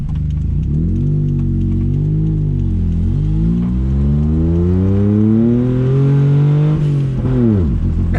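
A small diesel car with a six-speed gearbox revs loudly and close. The engine note rises and dips through several climbs, then drops away sharply near the end.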